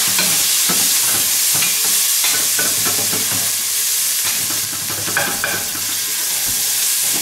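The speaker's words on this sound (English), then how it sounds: "and the chopped green chilies. I'm going to pop these in. Give it a good stir." Chopped green chilies frying and being stirred in a hot pan on a gas stove, a steady loud sizzle broken by scraping spoon strokes, with no talking.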